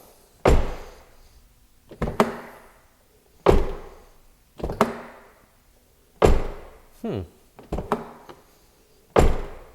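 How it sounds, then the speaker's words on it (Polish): A Rover 75 2.0 CDT car door is opened and shut several times, sharp latch clicks and solid thunks spaced a second or two apart, close by. "najpierw takie zapoznawcze otworzenie i zamknięcie drzwi"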